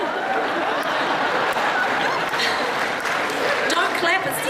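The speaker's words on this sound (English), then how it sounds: "Don't clap, it's despicable." An audience applauds steadily throughout a televised talk about powerful women in TV, the clapping loud and sustained, with some mixed-in chatter and laughter that never clearly breaks through.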